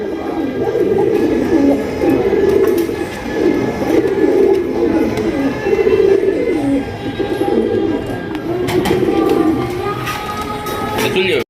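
Sirazi pigeons coo in soft repeated rounds, steady throughout, with a voice talking over them.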